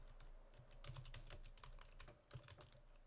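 Quiet, close tapping on a computer keyboard while a web page is built, an irregular run of key presses with brief pauses and one short burst of faster strokes.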